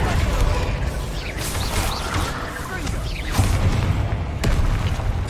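Spell explosions from Bombarda and Confringo in the video game Hogwarts Legacy, a steady dense roar of booms, crashes and mechanical rattles with sharper bursts near the middle and end, with faint voices mixed in.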